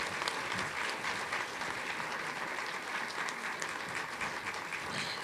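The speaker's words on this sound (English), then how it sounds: "Thank you for your warm applause" Warm applause from an audience at a swearing-in ceremony for the director of Seattle Center: steady, dense clapping that holds at an even level for about five seconds, with no voices over it.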